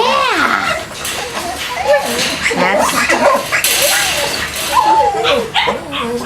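Several Chow Chow show puppies whimpering and yipping in their pen, a busy overlapping chorus of high, wavering whines and short yelps close by, with a person talking over them.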